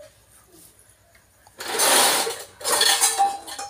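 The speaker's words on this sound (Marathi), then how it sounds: "आता पोळ्या टाकते मी।" Chapatis go onto a pan in a home kitchen: after a quiet start, two loud bursts of clattering and sizzling rise as the dough hits the hot surface.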